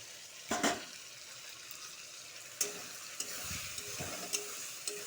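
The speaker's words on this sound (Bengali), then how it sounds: "ভালো করে লাড়াচাড়া দিব" Stirring pointed gourd curry with tomato, yogurt and mustard paste in a frying pan, a soft steady sizzle broken by a few sharp scrapes and clinks of the spoon against the pan, close and without talk.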